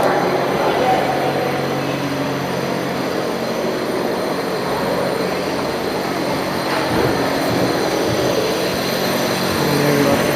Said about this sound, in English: Oh, the C train just came in,